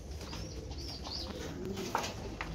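Pigeons in a rooftop coop give low, soft cooing and a few faint chirps over a steady murmur of background noise.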